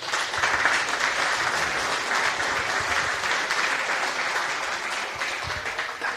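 Audience applause at a national business pitch competition final after a team's presentation, a steady wash of many hands clapping at even loudness throughout with no voices on top.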